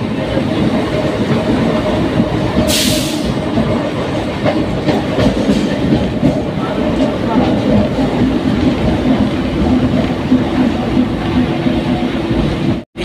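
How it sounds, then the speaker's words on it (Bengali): A passenger train on the Shantipur to Sealdah line pulls toward Chakdah station, with a loud, close, steady rumble and rail clatter running the whole time and no one talking. "স্টেশন বন্ধুরা চাকদা স্টেশনে দাঁড়াবে ট্রেন মনে হয়"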